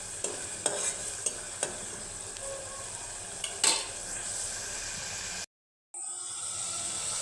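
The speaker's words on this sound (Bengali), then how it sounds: "এখন এই যে চিংড়ি মাছটা কষিয়ে নিতেছি সবজির জন্য" Prawns being stir-fried with spices for a vegetable dish: a constant soft sizzle with sharp utensil scrapes and taps against the pan, close by, briefly cutting to silence near the end.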